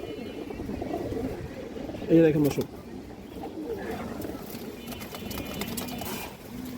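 A large, restless boot-beaked female pigeon coos softly in a low murmur under a man's speech, with one short, louder call partway through.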